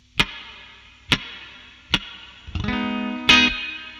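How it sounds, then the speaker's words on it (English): Electric guitar played through a Joyo Atmosphere reverb pedal on its plate setting: three sharp muted plucks with short ringing tails, then a sustained chord that blooms into a bright, lingering wash. "Starting off, I'm going to turn on the reverb. The plate is a big kind of ambient sounding reverb."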